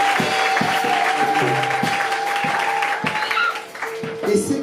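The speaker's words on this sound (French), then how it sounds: "Applaudissez-le." A congregation at an ordination breaks into steady, sustained applause, with voices mixed in and a faint tone running underneath, before the clapping thins out near the end.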